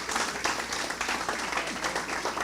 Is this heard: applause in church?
yes